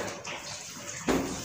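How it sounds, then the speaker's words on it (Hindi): Water is poured from a tap into a pan of frying potato and pea curry, a soft splashing hiss under quiet room noise that swells briefly near the end. "इसमें मैं पानी शामिल करूँगी"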